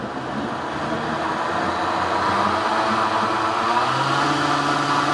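A Vitamix blender runs at its highest speed, mixing vanilla pudding custard, with a loud, steady whirring drone that holds unchanged throughout and no talking.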